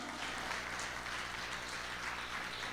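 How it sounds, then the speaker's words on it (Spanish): A church congregation applauds in praise, a steady, even wash of many hands clapping, fairly faint and unbroken throughout. "Gloria a Dios, déle ese aplauso a nuestro Señor"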